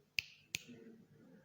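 Two crisp finger snaps in quick succession, close and clear, the second about a third of a second after the first, in a quiet room.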